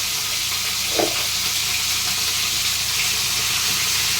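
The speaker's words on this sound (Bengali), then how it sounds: "ফুলকপিগুলো একটু ভেজে নেবো লাল লাল করে।" Cauliflower florets frying in a pan, browning before a spice paste goes in: a steady, even sizzle throughout, with one brief louder stir or clack early on.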